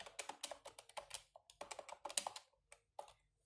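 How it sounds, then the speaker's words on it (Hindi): Rapid clattery typing on a Discovery Kids toy laptop keyboard, a quick run of plastic key taps in bursts with short pauses, close and fairly soft, trailing off into a few last isolated presses. "अब नोटबुक में आने लीजिए, आपको कुछ टाइप करना है।"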